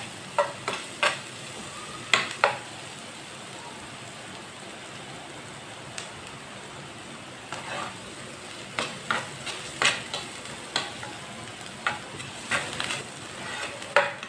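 Chopped onions cook in a pan on a stove turned down low, giving a steady close sizzle, with clusters of scraping stirring clicks toward the end and no talking.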